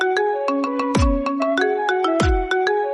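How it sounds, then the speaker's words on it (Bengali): A custom AI-generated ringtone announcing a name plays on a phone, a loud, steady looping melody of bright synthetic tones with repeated sweeping accents, with no other sound around it. "আমি একটা রিংটোন বানাইছি, সেটা আমি আপনাদেরকে শুনিয়ে দিচ্ছি।"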